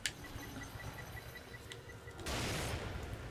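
Explosion in the horror game The Evil Within, a faint crackling rumble that suddenly swells into a sustained, dense blast of noise near the end.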